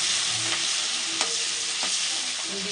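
Garlic, green chili, a little ginger and curry leaves sizzle in hot oil in a pan while being stirred for tomato rice, a steady close frying hiss with occasional scrapes of the spoon.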